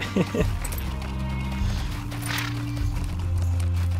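A horse in the LOTRO video game trots with quick rhythmic hoof clip-clops, with a short whinny near the start, while a person talks over it.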